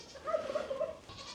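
Baby goats on a farm bleat faintly in a short, wavering cry with a couple of pulses, heard at a distance with no talking.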